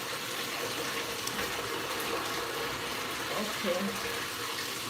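Running water rinsing deep conditioner out of 4c hair during a wash and go, a steady broadband rush like a tap or shower running continuously at moderate level, with a brief spoken word over it.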